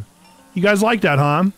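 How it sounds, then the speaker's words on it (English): Two long, deep moos from cattle close by, one right after the other, with someone speaking softly just before them. "Look at how many cows!"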